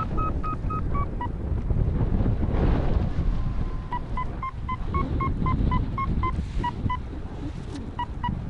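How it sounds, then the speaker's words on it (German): Strong wind roars and buffets the microphone outdoors, a loud continuous rush with gusts, while a repeating series of short electronic beeps sounds through it. "Der Wind schert gewaltig!"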